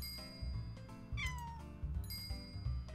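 Cartoon cat meows in the Doggie Dash pet-grooming video game, a few bright rising-falling meows over steady upbeat game music and chiming effects.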